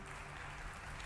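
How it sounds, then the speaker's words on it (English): Faint applause from an audience at a talk in Barcelona, a steady wash of clapping that runs the whole second without any voice over it. "Everyone give a huge round of applause to Barcelona's own Clara Gromaches."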